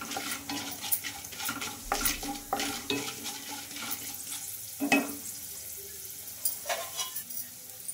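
Lentils and chana dal sizzle and crackle in hot oil in a kadai, with stirring scrapes and clinks of a spoon against the pan, close and steady with no voices.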